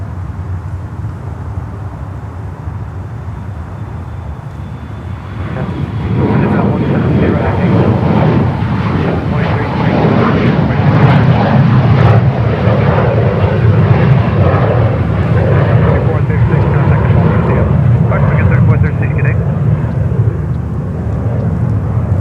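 A small airplane takes off from runway 22 right at Newark Liberty International Airport. Its engine roar swells in after a quieter stretch and stays loud and steady, with a voice talking over it.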